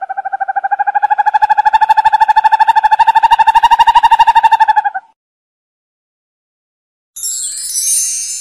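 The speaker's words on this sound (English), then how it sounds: "Owl." An owl gives a long, rapid, steady trill lasting around five seconds before falling silent, followed later by a short burst of noisy sound.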